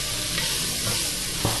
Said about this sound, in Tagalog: medyo lulutuin ko lang ng kaunti at igigisa yung powder nasi goreng mix na yon